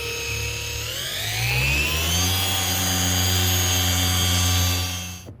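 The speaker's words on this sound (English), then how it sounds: "immediately I can tell you that polisher doesn't move fast enough" An Optimum DA21E3 21mm dual action car polisher runs alone, its motor whine rising in pitch as it speeds up, then holding a loud, steady tone before winding down at the end.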